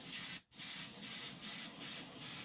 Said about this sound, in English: We will spray